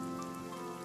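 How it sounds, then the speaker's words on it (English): Rain falls in a multiplayer PVP video game as a faint, steady patter beneath sustained, tonal background music. "When it's raining, it's got his own atmosphere."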